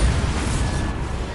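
Dense, roaring blast of the Bombarda explosion spell in the video game Hogwarts Legacy, loud and continuous with a heavy low rumble throughout the short burst.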